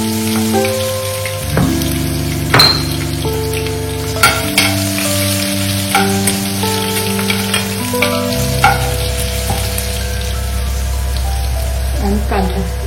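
Crushed garlic and cumin fry in hot oil, a loud crackling sizzle with sharp pops and spatters and occasional stirring scrapes, continuous through the whole stretch.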